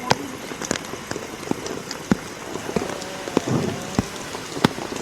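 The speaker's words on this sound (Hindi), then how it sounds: "दूसरी तस्वीर जहां पर बारिश हो रही है" Steady rain from Cyclone Remal in West Bengal pours over a surface, a dense continuous patter broken by sharper nearby drips and splashes, with a faint bit of background commotion.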